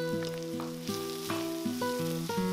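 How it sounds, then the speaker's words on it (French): Onion sizzles in hot oil in a pan over high heat, a steady hiss under prominent background music. "chauffe un peu d'huile dans une poêle et je fais revenir l'oignon à feu vif pendant une minute"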